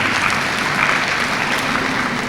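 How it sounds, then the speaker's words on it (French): Steady, dense applause from an audience at a promotion ceremony, filling the whole stretch at even loudness with no voices on top. "C'est à applaudir."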